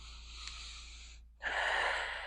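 A deep breath drawn during a stretch in a full-body exercise session, heard as a soft airy inhale, a brief pause, then a louder, fuller rushing exhale close to the mic, with no talking.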